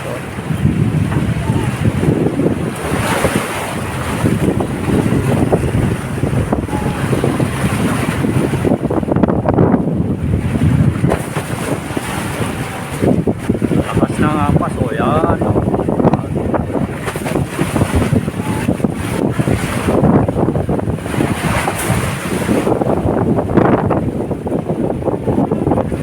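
Typhoon wind batters the Baseco seawall where sea meets the Pasig River, with loud gusting roar and crashing waves throughout, and a voice talking intermittently over the storm.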